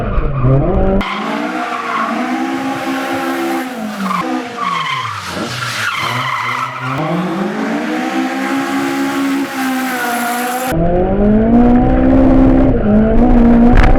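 A drift car skids with loud, sustained tire squeal and screaming engine on an industrial-estate street course, the pitch sweeping up and down across several long slides, close and without talk.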